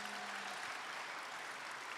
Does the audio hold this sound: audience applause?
yes